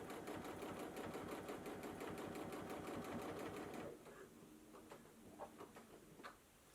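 A sewing machine quilting long lines runs in a fast, steady rapid stitching rhythm for several seconds, then slows to scattered individual stitches, close and fairly quiet.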